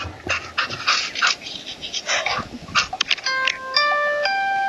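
A dog pants rapidly and wetly up close in short bursts, followed by a two-tone doorbell chime ringing near the end.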